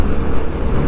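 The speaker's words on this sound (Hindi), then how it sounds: "कानपुर का ट्रैफिक" City road traffic in Kanpur, India, heard from a moving motorbike: a steady, loud rumble of engines and road noise fills the whole second without a break, and no one speaks.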